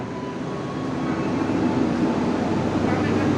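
Prameks commuter train at Yogyakarta Tugu station, a steady broad rumble and hiss rising slightly in loudness, close by and continuous throughout, with no talk over it.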